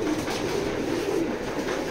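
Racer pigeons coo steadily, a low throaty warble repeating in soft overlapping rolls across the whole stretch, close and fairly loud with no voices.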